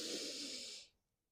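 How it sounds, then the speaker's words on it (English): A long, steady inhalation through the nose during a yoga leg-extension exercise, a soft airy rush lasting about a second before fading to silence. "breathing in"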